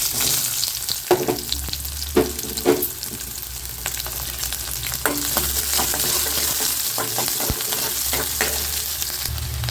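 Onions sizzle steadily in hot oil with fenugreek seeds, with a constant crackling hiss up close and occasional scraping clicks of a utensil stirring the pan.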